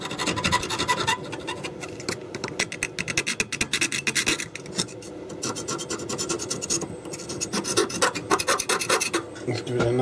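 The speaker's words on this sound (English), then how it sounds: "Let's get a knife and just scrape back any" A knife scraping verdigris off metal parts of a Chapman S6 BS valve tuner, a continuous close rasping scratch in quick repeated strokes, loud and alone.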